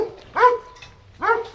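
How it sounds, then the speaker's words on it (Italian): Dogs bark at another dog, two sharp, loud, close barks about a second apart with a whimpering tone and no talk. "cani che gli abbaiano addosso"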